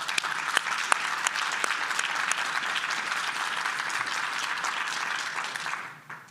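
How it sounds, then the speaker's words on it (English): Sustained applause from an audience at a Bend civic forum honoring the Oregon Association of Realtors and a Morgan Stanley group, a dense steady wash of many hands that fades out near the end. "Let's give everybody a round of applause."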